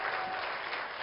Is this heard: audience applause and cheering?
yes